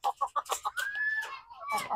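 Backyard Rhode Island and crossbreed hens cluck in a quick run of short rhythmic calls, then a longer rising squawk and more clucks, close and fairly quiet.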